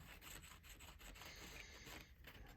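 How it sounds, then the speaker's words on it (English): Rapid, rhythmic scratchy rubbing of a small nail sanding block against card paper, steady and close, with no talking. "I just have a little sanding block that you use for your nails."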